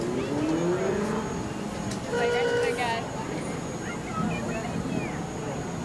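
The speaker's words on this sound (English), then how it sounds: "Here's another view of the cars coming down the street or up the street." Cars roll along a street in an Independence Day parade, a steady engine rumble passing close by, with people talking over it.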